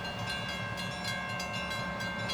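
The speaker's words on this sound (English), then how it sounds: "As the train departs Eden, I'll note that this westbound train will cross into Indiana in about 2 minutes." A westbound vintage excursion train rolls out of Eden, Indiana, its steady rail rumble and faint rhythmic wheel clatter carrying at moderate distance, with a sustained tonal hum above and no voices.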